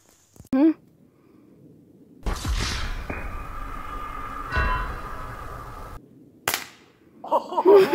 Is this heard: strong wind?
no